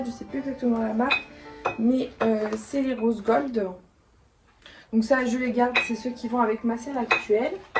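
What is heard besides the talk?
key charm jingling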